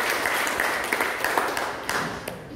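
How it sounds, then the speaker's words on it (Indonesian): Loud, steady applause fills a church congregation praising God, many hands clapping together densely throughout the short stretch, close and continuous. "Kasih tepuk tangan untuk Tuhan."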